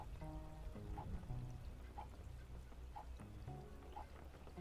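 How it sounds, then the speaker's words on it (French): Soft ambient rain in the video game Dépanneur Nocturne, a faint trickling patter beneath gentle musical tones and chimes. "Voilà une petite pluie en ambiance"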